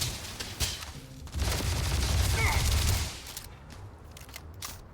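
Gunfire from a weapon in a video game rattles in a dense, loud burst that swells for a couple of seconds, then gives way to a few scattered sharper shots as the noise thins out.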